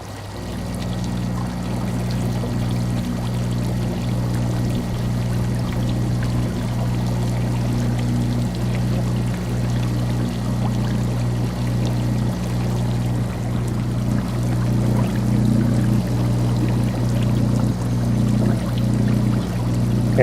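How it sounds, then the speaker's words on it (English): An air pump pushes air through a perforated PVC wand in a tank of tap water, giving a steady, continuous bubbling and pouring rush with a low pump hum underneath, unbroken throughout. "there's holes for the air to come out and aerate all the water"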